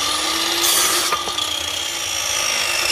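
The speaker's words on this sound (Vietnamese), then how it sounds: "Đó mình đưa vô máy chạy mộng mình cắt test cho anh em ha." A Japanese-made tenoning machine grinds and cuts steadily through wood, a harsh continuous whine with a brief surge partway through, close and loud.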